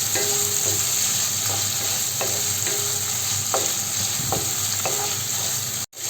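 Chicken sausage frying in a pan with black pepper powder, a steady sizzle and hiss running throughout while a utensil stirs it in several short scraping strokes, close and fairly loud, with no talking.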